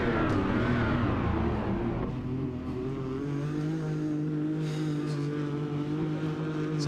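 Race car engines in the eROC sim racing game, a steady high revving drone that climbs then holds a sustained tone, moderately loud with no talk over it.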